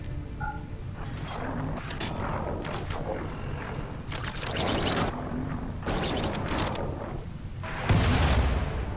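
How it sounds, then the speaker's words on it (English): Artillery shells from a RimWorld battle keep falling on a mountain base as a series of heavy, repeated booms and blasts, with a louder explosion near the end. They sound continuous and fairly close. "these shells are just being lobbed into the mountain at this point"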